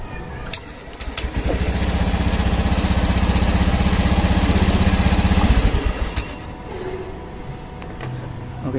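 A Honda Vario 110 FI fuel-injected scooter with an unstable, rough idle runs close by. A loud, chugging, lawn-mower-like engine note holds steady for several seconds and then drops back to a lower, uneven idle.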